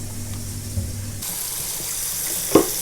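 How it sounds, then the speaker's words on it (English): A household hot water tap is turned on, and a steady rush of running water starts partway through and continues close and loud, with a small knock near the end. "Let's turn the hot water tap on."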